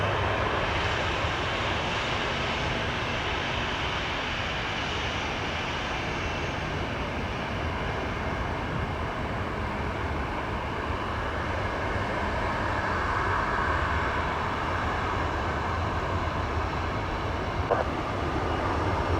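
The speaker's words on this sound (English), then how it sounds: "Air Canada's Rouge took off from Charlie 2." An Air Canada Rouge airliner takes off from a runway, heard as a loud, steady jet engine roar that holds for the whole stretch and swells a little toward the end, with no voices.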